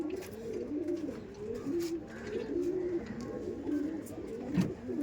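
Several Punjabi pigeons, male and female, coo softly in overlapping, rolling calls that repeat steadily, close by with a faint background hum.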